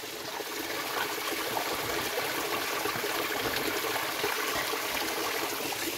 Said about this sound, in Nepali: यहाँ हेर्नुहोस् पानी